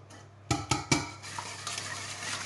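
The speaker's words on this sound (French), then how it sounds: "Et je viens mélanger tout ceci jusqu'à ce que ce soit bien fluide." Eggs whisked into a lemon tart mixture in a bowl: three sharp clinks of the whisk against the bowl, then a steady soft scraping and swishing, close and fairly quiet, with no talking.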